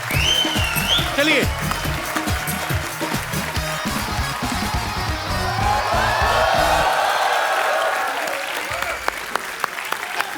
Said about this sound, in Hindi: जोरदार तालियां शाहरुख भाई और आलिया के लिए।